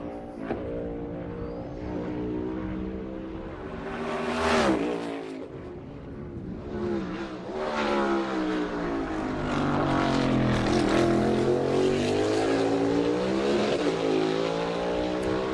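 A race car engine screams through a qualifying lap at the Toyota / Save Mart 350, loud and close, with rising and falling pitch as it shifts and brakes for corners, swelling toward the end.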